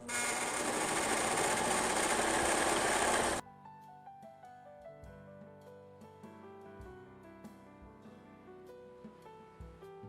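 A sewing machine stitches a double-sided fabric placemat: a loud, steady motor whir close up that cuts off abruptly after a few seconds, leaving soft melodic music playing alone.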